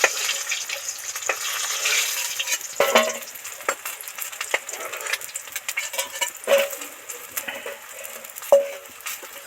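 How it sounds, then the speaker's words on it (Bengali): Bhetki fish pieces deep-fried in oil for a kalia curry are lifted out slowly, giving a steady broad sizzle with occasional light clinks of a utensil against the pan. "মাছগুলো ডিপ করে ভেজে নিলাম এবার আস্তে আস্তে উঠিয়ে নিচ্ছি"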